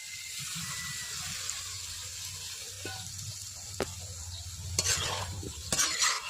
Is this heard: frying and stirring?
yes